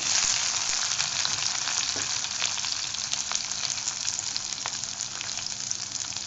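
Capsicum frying in hot oil with ginger garlic paste for paneer chilli, a continuous close sizzle with a few light stirring taps, with no one speaking.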